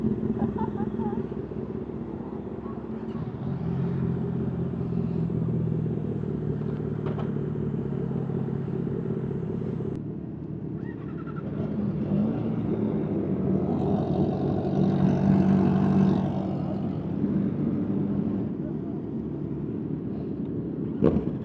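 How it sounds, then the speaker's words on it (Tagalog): A Kawasaki ZX4RR motorcycle with a straight-pipe exhaust drones steadily nearby, its engine note swelling and easing as it rides, with wind rumble and people talking over it. "para straight pipe yung tunog"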